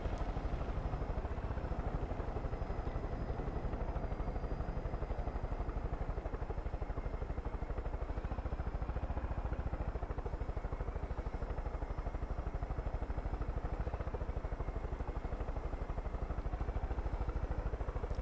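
A helicopter flies in the video game Far Cry 5 on PS4, with a steady, loud rotor and engine drone that holds evenly throughout and has no talk over it.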